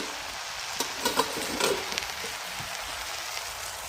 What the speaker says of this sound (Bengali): এবার আমি ভেজে দেবো।